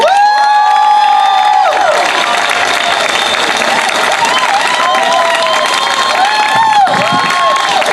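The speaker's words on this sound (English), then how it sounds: "So please, a warm round of applause for April Berg." Rally crowd applauding and cheering loudly at a Families Belong Together rally, a dense, sustained wash of clapping and shouts with some high whistles and children's voices, steady throughout.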